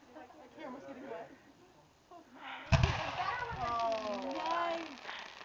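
May Day fireworks burst outdoors, with one sharp loud boom partway through followed by crackling and a rising whistle, while voices and excited chatter carry on throughout.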